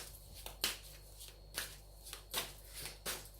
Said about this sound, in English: As I'm shuffling